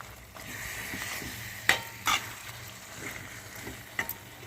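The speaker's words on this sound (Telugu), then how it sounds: "నేను ఇంకో స్పూన్తో కలిపేస్తున్నాను" A spoon stirs tomato chutney in a sizzling pan: soft scraping strokes over a low fry, with a few sharper clinks of metal against the pan.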